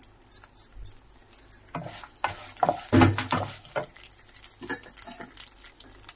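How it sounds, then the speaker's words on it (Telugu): Dry red chillies lightly frying in a pan with lentils give a soft, faint sizzle, broken by scattered clinks and scraping stirs of a spoon against the metal. "5 ఎండుమిరపకాయలు వేసుకున్నాండి. లైట్గా ఫ్రై చేసుకోవాలి."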